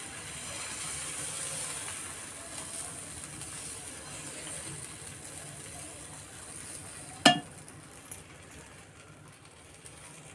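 Dosa batter made from leftover rice sizzles steadily on a hot pan, a soft continuous hiss near the mic, broken by a sharp clatter of a utensil around seven seconds in.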